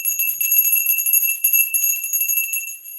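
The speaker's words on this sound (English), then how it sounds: "Let's ring the bell." A bell rung steadily for about three seconds, its bright sustained ringing tones layered and continuous with slight pulsing swells, fairly loud and alone with no voices.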